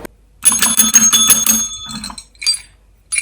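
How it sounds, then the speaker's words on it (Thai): A small bell bought as a Christmas tree decoration rings in quick repeated shakes, close and bright, followed by a few softer jingles after a short pause. "กระดิ่งค่ะคุณผู้ชม"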